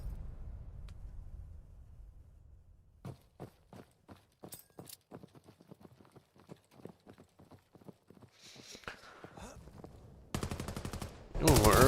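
Rapid gunfire in the VR shooter VAIL during a competitive VRML match, fired in quick repeated bursts that grow louder toward the end, with faint voices underneath.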